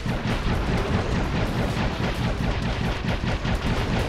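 Shots fire without pause in the shooting stage of the video game Dave the Diver, a dense, loud barrage of booming blasts running steadily throughout.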